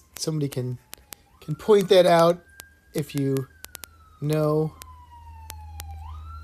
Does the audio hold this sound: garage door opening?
no